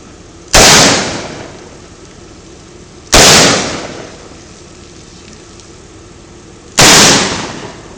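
Three booming shots from a hand cannon fired two-handed on a Kansas country farm, each a sharp loud blast with a decaying tail, spaced a few seconds apart with quiet outdoor air between them.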